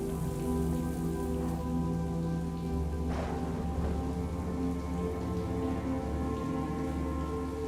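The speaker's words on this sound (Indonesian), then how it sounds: "beneran hujan kan?" Heavy rain pouring down in a steady, dense roar on surfaces outdoors, with a faint rumble of distant thunder midway and no voices.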